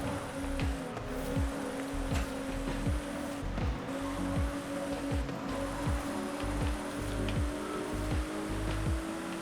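Nissan GT-R R35 drifting in a racing video game, a steady engine drone with a regular series of rising rev sweeps as it shifts and slides, fairly quiet and with no talking over it.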